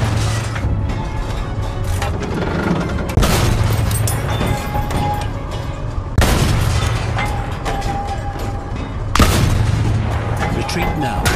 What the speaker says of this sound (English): The enemies are being halted by our artillery battle.